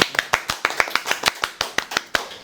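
Several people clap in a short, uneven burst of sharp, close handclaps, greeting a guest's self-introduction on a Korean online-business interview channel.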